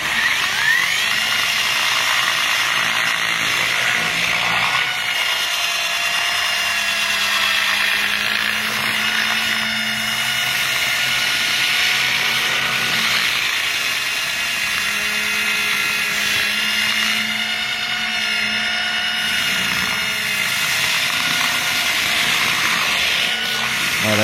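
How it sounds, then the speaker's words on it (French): An electric windshield de-icer, a Karcher EDI 4, whirs in a steady, high-pitched drone as it works against windshield glass, running continuously without a break. "Voilà, c'est une ponceuse de pare-brise."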